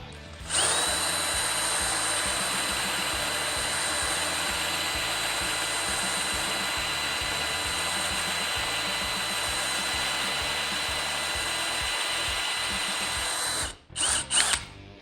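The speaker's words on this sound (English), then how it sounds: "DCD 1007, speed 1, 54 mil Forstner bit into a fresh piece of wood" A DeWalt DCD1007 brushless hammer drill on speed 1 bores a 54 mm Forstner bit into fresh wood, a loud steady whirring grind that runs continuously for about thirteen seconds before stopping with a few brief clunks.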